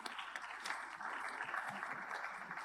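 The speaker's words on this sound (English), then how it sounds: "So a round of applause for him," Audience applause at an engineering conference, a modest, fairly distant patter of clapping hands that holds steady throughout, with a few sharper claps standing out.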